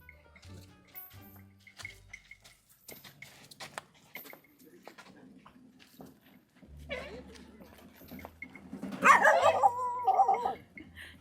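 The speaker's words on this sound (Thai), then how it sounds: "อย่าเห่ากันเองลูก" Dogs bark and yip in several short bursts, growing louder and more intense toward the end, with a person talking between the barks.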